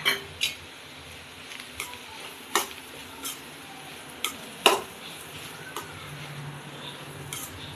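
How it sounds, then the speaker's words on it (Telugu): Ginger-garlic paste fries in a pan for a dried-shrimp and onion curry, a continuous sizzle broken by repeated sharp clinks and scrapes of a spoon stirring against the pan. "ఇలా అల్లం వెల్లుల్లి పేస్ట్ పచ్చివాసన పోయేంత వరకు మనం దీన్ని వేయించుకోవాలి"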